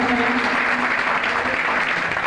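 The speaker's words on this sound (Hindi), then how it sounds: "जोरदार तालियों के साथ स्वागत करें।" Loud welcoming applause from a village gathering greeting a visiting assembly member, dense continuous clapping at steady volume throughout, with a faint low hum beneath.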